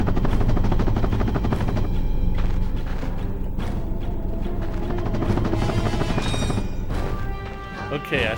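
Helicopter starting up in the video game Ratchet and Clank, a dense mechanical roar with rapid chopping pulses and sharp bursts of game effects, loud and continuous with no clear speech.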